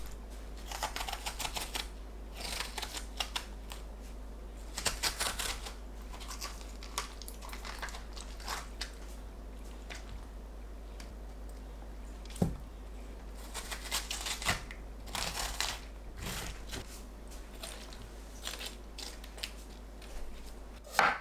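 A knife slicing a halved, seeded aged cucumber (nogak) into thin 3–4 mm slices, producing quiet repeated chopping clicks against a cutting board in irregular bursts, with no talk.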